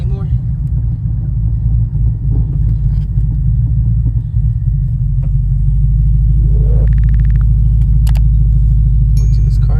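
Repaired Cadillac CTS-V on a test drive after a misfire fault, a strong low engine rumble and road drone filling the cabin steadily throughout, with a short whine and a few small rattles over it.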